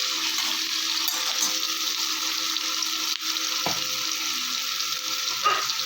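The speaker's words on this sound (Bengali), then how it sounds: "নাড়াচাড়া দিয়ে নেব।" Onions, tomatoes and black cumin seeds fry in hot oil in a pan, a steady bright sizzle with a few scrapes of a stirring spoon throughout.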